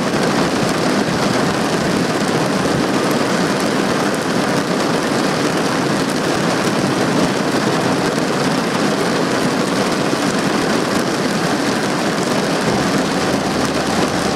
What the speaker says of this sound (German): Man hört fast gar nichts wegen dem Regen.